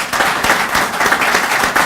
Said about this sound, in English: So how about a big round of applause for